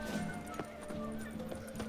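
Horse hooves clip-clop in The Witcher 3, a regular rhythm of sharp, evenly spaced hoofbeats over a low ambient hum, fairly quiet and close.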